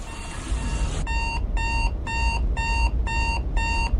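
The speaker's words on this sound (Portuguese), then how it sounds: "Você acorda quando o despertador toca" An alarm clock goes off with a run of six bright, evenly spaced electronic beeps over a low rumbling background, loud and close.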